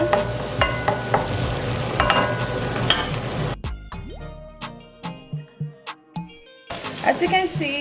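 Shrimp curry fried rice sizzling in a pan while being stirred, a dense continuous fry noise with scraping strokes that drops away midway, leaving sparse clinks and taps before the sizzle returns loudly at the end.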